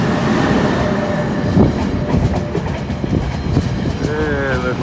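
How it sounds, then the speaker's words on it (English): A New Jersey Transit southbound train pulls into Jersey Avenue station in New Brunswick, its loud rumble and rattling wheel clicks filling the air, with high squeals of wheels near the end. "Got a New Jersey Transit southbound coming in."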